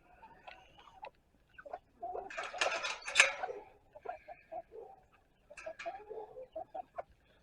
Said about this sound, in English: Oh, now we got 2 of them out. Chicken.